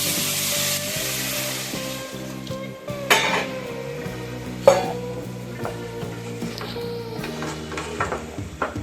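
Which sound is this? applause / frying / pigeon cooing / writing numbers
frying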